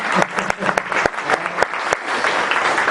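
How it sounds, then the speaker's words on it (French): An audience at a closing seminar session in Gravelines claps for the event host, scattered sharp claps forming a moderate, uneven round of applause, with a voice briefly audible. "On va déjà applaudir notre animatrice en chef"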